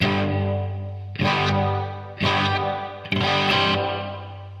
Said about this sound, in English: I have an RV5 setting, which is just a modulated reverb.